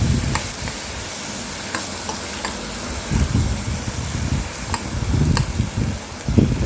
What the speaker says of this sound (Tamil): சின்ன வெங்காயத்தை இந்த மாதிரி வதக்கி எடுத்துக்கணும். அதுக்கப்புறம் இந்த 3 தக்காளியும் சேர்த்து நல்லா வதக்கிக்கணுங்க.